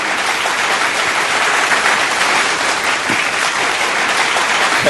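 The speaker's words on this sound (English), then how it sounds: "And we have a virtual applause." Dense, steady applause from an audience after a live Filipino song performance, loud and continuous throughout with no letup.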